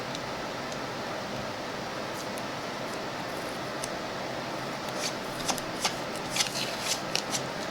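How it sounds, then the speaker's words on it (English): Wide blue tape being pulled and pressed onto scrap wood, a steady close rustling and tearing with a few sharper crackles near the end. "put a little tape here and a little tape there"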